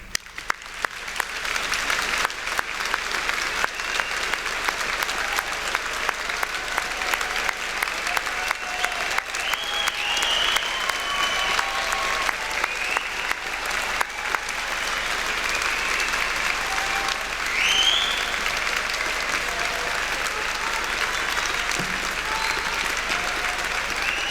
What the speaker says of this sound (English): join me in giving them a huge round of applause one more time